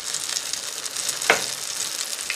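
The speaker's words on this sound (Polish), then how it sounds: "No i smażymy na wolnym ogniu do momentu, aż będzie pięknie różowe od spodu." Strawberry pancakes made with curd cheese and yogurt fry in fat in a pan over low heat, giving a steady soft sizzle with one brief sharper crackle and no talking.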